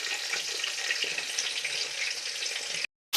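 Mixed vegetables sizzle steadily in hot oil in a kadai, close and continuous with soft crackling. The sound cuts out abruptly to silence near the end, then briefly returns.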